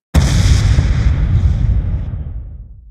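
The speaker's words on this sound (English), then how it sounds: "And at last, the explosion hits at the end." Rocket launcher explosion made for video game sound design: a single loud, sharp boom with a deep rumbling tail that gradually fades over a few seconds, heard alone.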